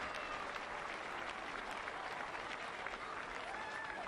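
A stadium crowd at a women's football match between Brisbane Roar and Western United at Ballymore rises to its feet and applauds, a dense, sustained wash of clapping and cheering throughout.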